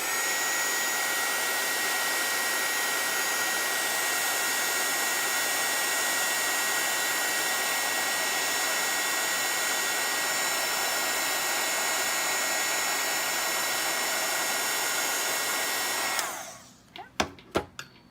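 A heat tool blows steadily and loudly at close range, setting embossing powder on a craft card with an adhesive-backed sheet, then cuts off, leaving a few light taps.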